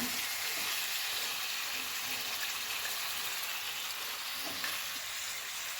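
Chicken coated in masala sautéed in a pan, a loud continuous bright sizzle with faint stirring scrapes throughout, close up and without speech.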